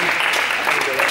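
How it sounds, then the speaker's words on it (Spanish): Brief burst of group applause after a game, dense and loud clapping filling the short moment, with voices mixed underneath. "Un aplauso."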